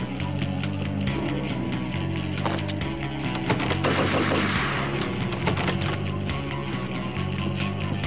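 Rifle fire in the Max Payne video game, rapid bursts of gunshots over a dense, loud game soundtrack, with a sharper cluster of shots in the middle and no talking.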